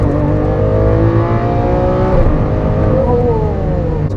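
A 2015 Lamborghini Aventador accelerates hard through single-clutch gear shifts, its engine note loud and close, rising steadily in pitch, with a brief dip around each shift.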